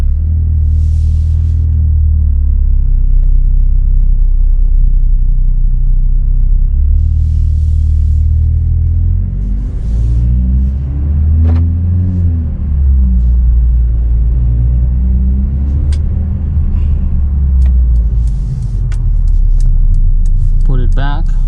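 A 2020 Mercedes-AMG CLA 35 drives along with a deep, steady low rumble from the engine and road, swelling and easing over time, with brief clicks and faint knocks and intermittent talking inside the cabin.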